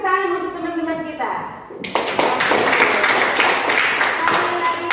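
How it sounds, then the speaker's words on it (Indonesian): A classroom of children claps together for their classmates, a dense sustained burst of applause that starts abruptly after a teacher's speech and continues loud and close to the end. "Kita kasih tepuk tangan untuk teman-teman kita."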